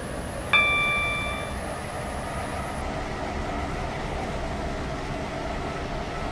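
A three-coach Class 195 train in Roblox SCR runs steadily with a smooth, continuous rolling drone, opened by a single bright chime.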